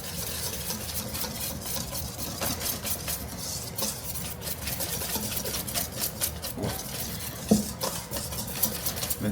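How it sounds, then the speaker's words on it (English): Muffin batter is whisked in a bowl, a steady scraping and clicking stir that runs continuously for several seconds with irregular taps of the whisk against the bowl. "You just whisk it all together."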